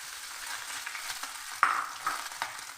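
Deboned silver carp pieces go into hot oil with fried onion and chopped green chilli, a soft steady sizzle with a sudden sharper crackle as the fish drops in, followed by quieter spattering pops.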